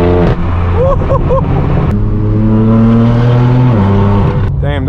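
An old-school Dodge Charger drives by with a loud, rumbling engine note that climbs and then holds steady, close and continuous throughout, with a brief change in pitch near the end.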